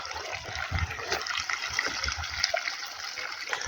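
Water forces its way through a kinked garden hose, a steady close gushing and trickling with small low thumps and gurgles throughout, no voices over it.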